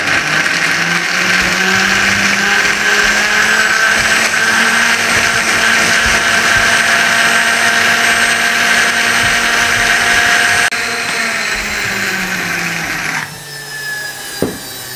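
Loud, high-pitched whir of a blender running steadily while making green chutney, close up, then the motor winds down and changes pitch near the end.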